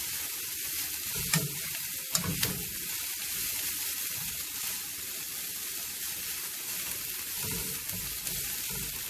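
Onions and garlic sizzle steadily in a hot pan, with a few close scraping stirs cutting through the even frying hiss.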